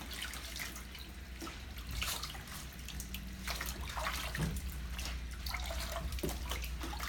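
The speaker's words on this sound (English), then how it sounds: "This is warm water." Warm water runs into a tub for bathing a Shih Tzu, a faint, steady splashing flow with small drips and clinks in a quiet room.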